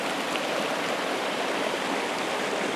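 A small forest stream pours continuously into a river, heard up close as a loud, even rush of churning water with no speech over it.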